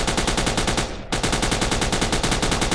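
A machine gun in Minecraft The Crafting Dead fires in a rapid, steady stream of loud close shots, broken by a brief gap of under a quarter second before the burst resumes at the same pace.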